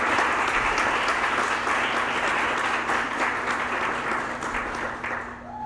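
Applause from an audience at a Pint of Science robotics debate in Brazil, greeting a professor called to coordinate. It rises steady and full, then tapers off, with no talk over it.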